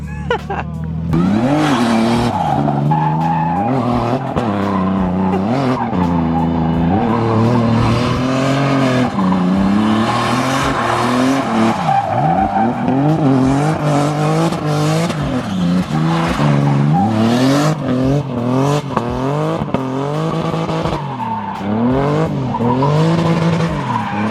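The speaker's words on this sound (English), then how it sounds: "Let's do a donut real quick." A BMW E46 M3 drift car does donuts at the top of a canyon, its tires skidding and squealing continuously while the engine revs and wails in rising and falling sweeps, loud and close throughout.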